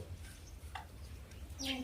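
Faint, soft pigeon cooing with a few brief chirps, heard quietly against low background hum.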